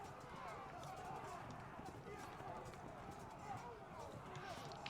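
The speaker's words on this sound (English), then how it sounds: "my light javelin horse are still in pursuit" Light javelin cavalry galloping in the medieval battle game Field of Glory II, English against French: a steady, dense drum of hooves runs throughout under a busy battle din.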